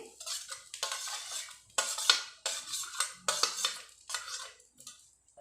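A spoon scrapes and stirs mashed potato into spices in a metal pan. The bursts of scraping and clinking come in an uneven rhythm with short gaps between them, close up and fairly quiet.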